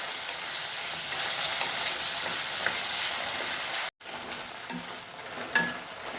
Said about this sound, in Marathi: आता आपल्याला टोमॅटो घालायचा आहे आणि 2 ते 3 मिनटं आपल्याला छान परतून घ्यायचं आहे